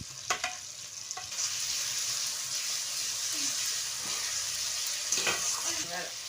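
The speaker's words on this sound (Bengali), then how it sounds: "এবার আমি রসুন বাটাটা দিয়ে দেব" Garlic paste sizzles in a pan of fried onion and chopped tomato, a steady hiss under a few sharp clinks and scrapes of a utensil against the pan.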